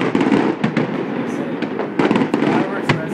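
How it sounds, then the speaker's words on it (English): Loud Fourth of July fireworks in Lenox, 2011, bursting in a dense crackling barrage with repeated sharp booms and a continuous roar, while voices can be heard beneath the explosions. "Fireworks were as expected, but the sound was just so crazy cool"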